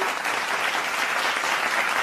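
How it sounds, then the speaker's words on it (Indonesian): Steady, dense applause from an audience, clapping continuously without pause at a fairly loud level. "tepuk tangan dong."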